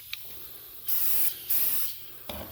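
Aerosol spray paint in red going onto the hood of an HO scale Bachmann GE 70 ton switcher model, heard as two close, steady hissing bursts of about half a second each, with quiet handling noise before and after them.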